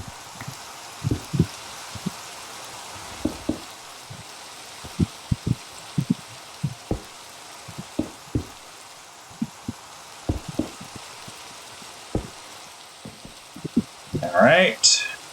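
Rain falls steadily in the Minecraft video game, a soft continuous hiss with scattered low thumps and clicks running through it and a brief louder burst near the end.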